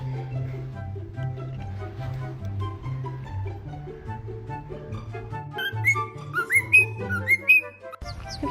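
A pet parrot whistles a run of bright rising notes, close and clear, in the later part over steady background music.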